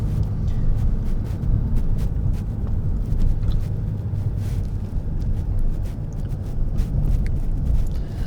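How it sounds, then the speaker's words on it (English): A Ford C-Max's two-liter turbo diesel engine drones steadily from inside the car at night, a continuous low rumble with faint whine, moderately loud and unbroken with no talk over it. "two liter diesel wingy engine with wingy turbo that's blowing like a"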